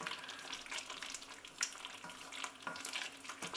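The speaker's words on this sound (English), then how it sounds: "Give it a good stir." Thick vegetable goulash with smoked paprika being stirred in a pot, a soft close-up scraping and bubbling with a faint sizzle, steady and continuous with brief louder scrapes of the spoon.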